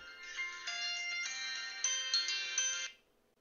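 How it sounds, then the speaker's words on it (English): A phone ringtone plays a bright, tinkling melodic tune for about three seconds, clear and fairly close, then stops; no talking over it. "Oh, my phone's ringing."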